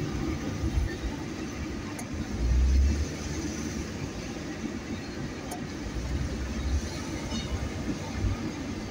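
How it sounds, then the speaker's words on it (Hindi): A metro train runs on a line below a busy Islamabad road during Independence Day celebrations, a low, steady rumble with a swelling pass at mid-distance mixed with traffic and crowd noise. "मेट्रो जा रही है नीचे"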